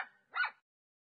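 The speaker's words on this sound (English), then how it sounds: "Dog. Baby is called puppy." A dog gives a short yip or bark, two brief close calls within a second, then silence.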